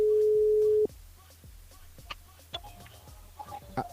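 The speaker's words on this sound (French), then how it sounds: "Allez, on appelle donc dernier appel donc Marion." A telephone call tone as a radio show dials a listener's mobile: a steady tone lasts under a second and cuts off, followed by faint sparse clicks and small line noises.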